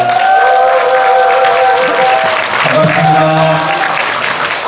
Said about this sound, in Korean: 잠깐 일어나시면 큰 박수로 환영하겠습니다.